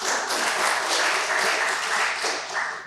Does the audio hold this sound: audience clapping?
yes